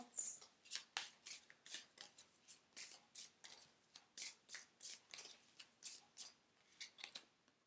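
Oracle cards are shuffled by hand in a quiet room, giving a steady run of soft, crisp riffling snaps that repeat in an even rhythm close to the listener.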